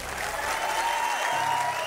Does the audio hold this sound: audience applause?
yes